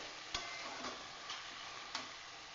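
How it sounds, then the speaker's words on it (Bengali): Elephant foot yam stems frying with nappi fish paste make a soft, continuous sizzle in the pan, marked by four sharp spatula knocks spaced irregularly, quiet and close with no talking. "এটা ভাজা ভাজা করতে করতে শুকনো করতে করতে লাল করে ফেলতে হবে"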